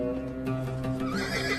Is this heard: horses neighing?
yes